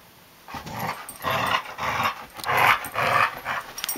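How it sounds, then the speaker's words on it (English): A husky growls in bursts while playing a game, giving a string of rough, close, fairly loud growls and grumbles with short gaps between them, and no talking. "likes to make a lot of growling noises, make herself look intimidating"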